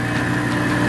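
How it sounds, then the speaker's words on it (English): A car engine idles steadily in the engine bay during a misfire check, a loud, close, continuous rumble with slight uneven vibration. "Go and start up the engine."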